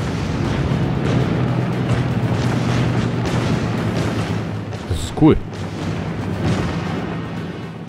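A single booming cannon shot from Paper Mario The Origami King lands amid a steady rumbling game backdrop, with someone speaking casually in German over it.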